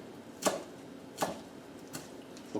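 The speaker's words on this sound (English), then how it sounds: "I'm going to use my knife very carefully and take thin slices with it" A knife slices thin pieces from food for a poor man's stuffed flounder, three quiet, crisp cuts spaced evenly apart on a board in a near, otherwise hushed kitchen.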